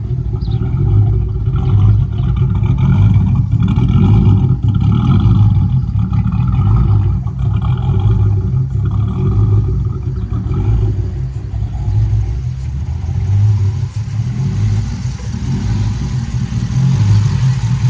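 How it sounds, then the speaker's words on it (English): A Dodge Charger R/T with a 270 comp cam on the stock tune idles loudly, a choppy, lumpy low rumble pulsing steadily and unevenly throughout. "you can hear this idle on the stock tune"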